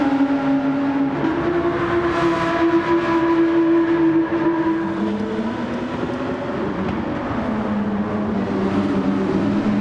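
Race car engine in Gran Turismo 7, echoing inside a tunnel: a loud, sustained droning tone that holds steady and then drops in pitch as the car runs through, with no talk over it.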